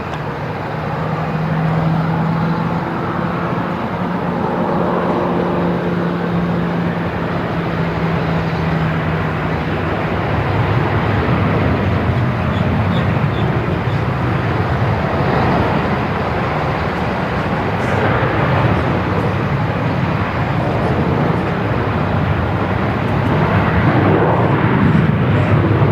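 A Fiji Airways jet taking off from runway 34 at Melbourne Airport, a loud continuous broadband engine roar that swells and holds steady throughout, heard from a spotting position with no talk.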